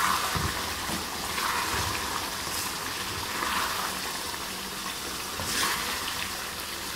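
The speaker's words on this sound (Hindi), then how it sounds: "और इसे अच्छी तरह भून लेना है।" Bone-in meat curry fries in desi ghee with a steady, moderate sizzle, with a few soft stirring scrapes.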